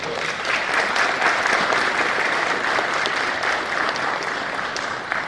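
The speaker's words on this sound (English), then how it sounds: "Ladies and gentlemen, I ask you please to give them all a round of applause." Steady audience applause for newly graduating security officers at a ceremony, filling the hall evenly at full strength for the whole stretch without pause.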